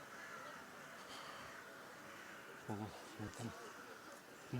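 Crows caw a few times, short and fairly distant, as they take off, with outdoor background and a little talk nearby.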